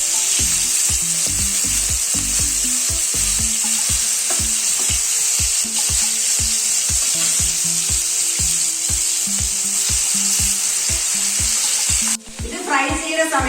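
King fish pieces shallow frying in hot oil over a medium flame, a loud continuous crackling sizzle with rapid regular pops, ending abruptly near the close.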